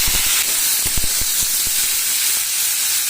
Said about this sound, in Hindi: तो आप फ्राई कर लेंगे बॉईल किया हुआ कटहल